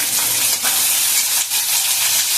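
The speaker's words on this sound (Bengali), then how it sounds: "এটা এবার আমি পেঁয়াজটা ছেড়ে দিলাম তেলে, পেঁয়াজটা দিয়ে দিয়েছি।" Chopped onion fries in hot oil for a mutton curry, a loud, close, continuous sizzle with brief dips where it is stirred, and no one speaks.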